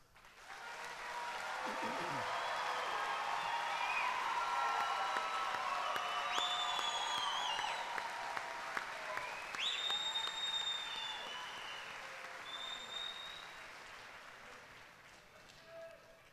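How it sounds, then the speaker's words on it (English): Sustained applause from a large crowd at a university graduation ceremony, swelling and holding for several seconds with scattered cheers and whistles, then slowly fading. "let's give our graduates, one final round of applause"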